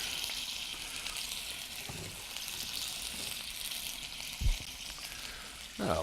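Chicken pan-sears in a hot pan with a steady, soft sizzle and hiss, broken by a few brief clatters and thumps of handling nearby.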